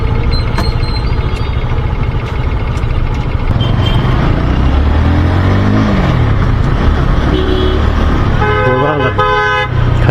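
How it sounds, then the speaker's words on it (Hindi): Heavy traffic jam in Surat, India, with steady engine rumble and several car horns honking, a prolonged multi-tone horn blaring loudly near the end, close and continuous. "बहुत ही ज़्यादा ट्रैफिक जाम है यहाँ पे।"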